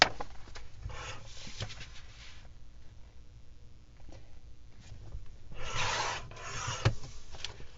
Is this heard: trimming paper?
yes